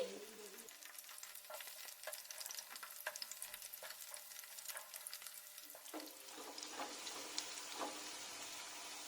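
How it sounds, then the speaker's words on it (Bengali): Vegetable pakoras frying in hot oil produce a soft, continuous bubbling sizzle with scattered small crackles and a few utensil scrapes as they are turned, fairly quiet and without speech. "আমি একে একে করে সবগুলো পাকোড়া ভালো করে এভাবে ভেজে নিব।"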